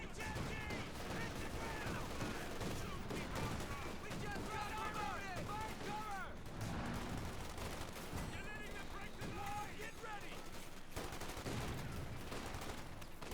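Rapid gunfire bursts from a German-held machine gun in a tank battle video game, loud and continuous with explosions mixed in, under steady excited commentary.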